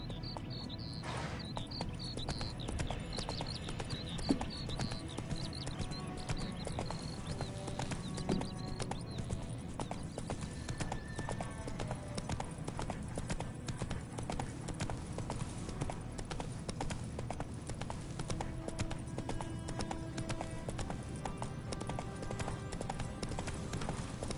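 Rhythmic hoof clip-clop of Roach, a horse in The Witcher 3 on PS5, trotting steadily throughout over a bed of crickets and ambient game sound, with a brief voice and occasional whinny.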